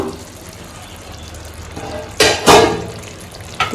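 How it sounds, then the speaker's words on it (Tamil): A pot of Ambur-style mutton biryani is stirred, giving two short, loud scraping, rustling bursts near the end after a quieter low background. "லைட்டா நல்லா கிளறி விட்டுக்கலாம்"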